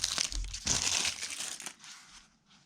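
Plastic packaging crinkles and crackles up close as it is pulled open, with rustling bursts that taper off.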